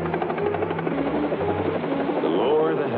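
A cartoon helicopter drones steadily with a buzzing rotor tone while a narrator talks over it throughout.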